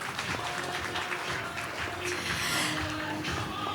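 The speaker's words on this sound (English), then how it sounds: "Can we give a big round of applause to yourselves as well?" Steady, dense clapping from a large audience at a celebratory anniversary night event, sustained and fairly loud throughout with no pause.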